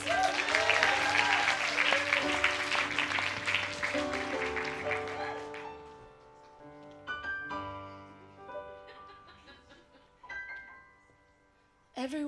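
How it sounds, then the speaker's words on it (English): Cabaret audience applause, dense and loud at first, then thinning out after a few seconds while sung or sustained tones carry on, with scattered claps and brief swells near the end. "Give her a round of applause."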